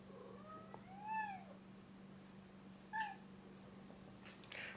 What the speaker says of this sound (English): Franklin Farm Cat